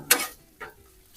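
Philly steak meat on a Blackstone griddle, two short scraping sizzle bursts, the first louder, close and without any talking.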